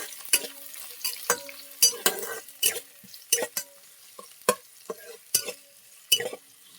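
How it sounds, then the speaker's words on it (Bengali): Onions frying in a pan until light brown, a low sizzle broken by repeated sharp scrapes and clacks of a spatula stirring against the pan at an uneven pace. "পেঁয়াজ দিয়ে দেবো, পেঁয়াজটাকে বাদামি কালার করে নেবো হালকা।"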